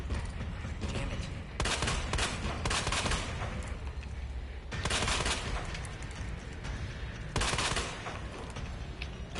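Rapid handgun shots from the video game Resident Evil 2, fired in several quick bursts of sharp cracks separated by short gaps, loud and close over a constant rumbling game soundscape.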